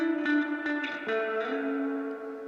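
Clean electric guitar notes from a Stratocaster through a Fender Deluxe Reverb tube amp ring out with a wash of spring reverb, a short melodic phrase sustaining and decaying smoothly.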